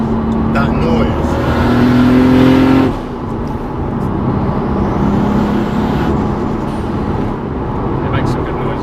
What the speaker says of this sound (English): that wastegate chatter is pretty insane